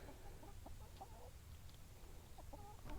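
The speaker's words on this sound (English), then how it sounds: "look at all them little chickens just going crazy wanting all them little bugs" A small flock of chickens clucking in soft, scattered bursts as they scramble for bugs on a farm, low and somewhat distant over steady outdoor rumble.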